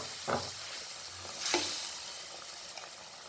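A spoon stirs salt into fish curry simmering in a pan, with two scraping stirs over a soft, continuous sizzle and a few lighter knocks afterward.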